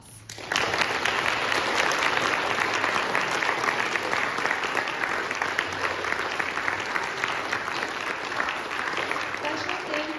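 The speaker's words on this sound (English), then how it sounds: "Let's give them a round of applause." An audience applauds after a sacred music performance. The applause starts abruptly, then holds as a full, even roar of clapping with a few voices underneath.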